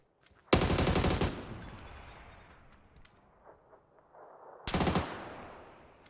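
Two bursts of rapid automatic gunfire in the video game PUBG, a long loud volley followed by a shorter one after a stretch of fading echo and quieter game noise.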